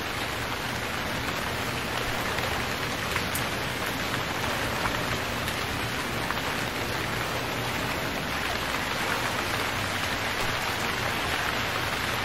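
Steady, dense rainfall hisses loudly and continuously in the game Stranded Deep, a broad wash of droplets with no pauses and no voices.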